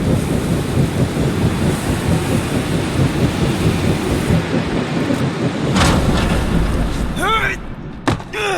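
Stormy wind roars steadily in the Guardians of the Galaxy video game, a loud broadband rush with deep rumbles and a few sharp gusts and thuds near the end, with voices briefly heard.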